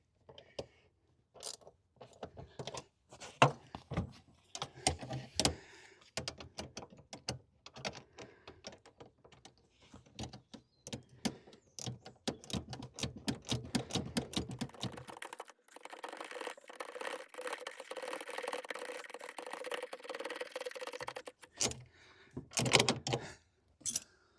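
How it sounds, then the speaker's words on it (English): A 7/16 ratchet spanner works on the seat runners of an MG B, giving rapid, quiet clicking bursts in irregular runs with small metallic knocks and pauses, close and faint. "Okay, so I found my 7/16 ratchet spanner."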